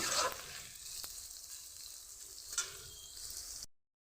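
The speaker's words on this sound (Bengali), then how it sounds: "গাজরটা দিয়ে একটু নেড়ে নেবো হালকা হাতে" Carrots stir-fried with cabbage in a pan for egg chow mein, a soft continuous sizzle with a couple of light stirring scrapes, fairly quiet, ending abruptly in silence.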